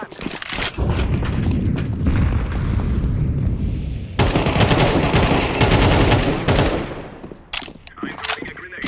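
Gunfire and a flashbang blast in a video game, loud and sustained, with dense bursts of shots and booming impacts rolling on for several seconds before thinning out into scattered shots.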